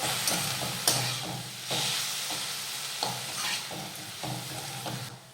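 Fenugreek greens frying in a pan are stirred with a spatula, soft scraping sweeps repeating every second or so over a quiet steady sizzle, fairly close and gentle, with no talking.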